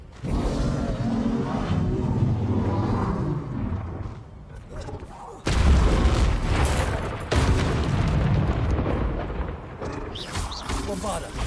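Bombarda explosion spells cast in Hogwarts Legacy give heavy booming blasts, with one loud impact about midway and another shortly after, over continuous game ambience and a voice calling out.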